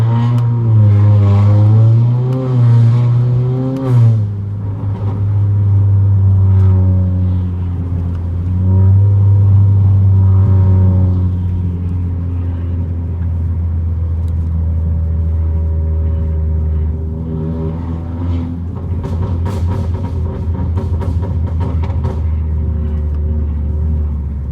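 A tuned 2019 Honda Accord Sport 1.5T with a loud aftermarket exhaust is driven on quiet local streets, its deep exhaust drone swelling through several throttle pulls and rev changes, close and loud throughout.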